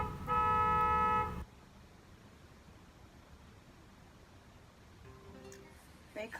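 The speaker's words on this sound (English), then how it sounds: "I'm sorry about that annoying car outside." A car horn outside blasts once, long and loud, then fades to quiet background hiss before a few fainter toots sound near the end.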